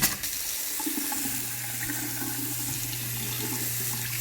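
Water gushes steadily from a Pfister faucet running hot into a sink, a constant close rush with a low hum joining in after a brief clunk.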